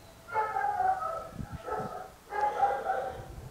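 A rescue dog gives two drawn-out, whining barks with a shorter yelp between them, all close and fairly loud, with no voices heard.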